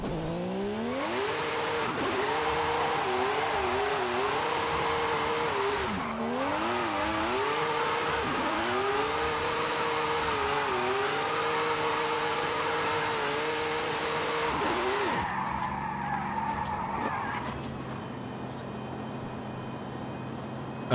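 Tires squeal continuously over a wavering, revving engine as a Formula Drift car slides through a long drift in Forza Horizon 5, loud and close, then the engine settles into a steadier drone near the end, with no voices.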